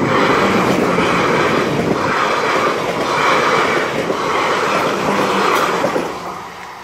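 A train thunders past close by at a level crossing near Wareham in a loud, dense roar with rhythmic pulsing from the wheels, easing slightly at the end.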